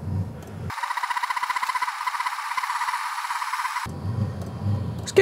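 Whirring roar from a Chinese diesel heater fan with an LCD controller. It starts abruptly, holds a steady, slightly pulsing rush for about three seconds, then cuts off, leaving quiet low background noise.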